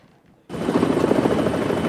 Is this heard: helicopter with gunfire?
yes